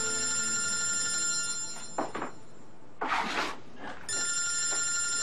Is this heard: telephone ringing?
yes